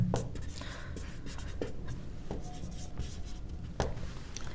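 Writing out a trigonometry problem on a right triangle, with pen or chalk strokes and occasional sharp taps over a steady room hiss, close by, with no clear talk.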